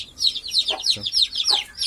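A turkey hen separated from her chicks calls repeatedly from inside a coop, a run of loud, close, high clucking notes in quick bursts.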